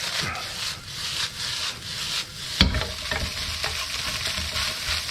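Egg and rice frying in a wok over high heat, giving a steady sizzle with scraping and stirring throughout and one sharp clank partway through.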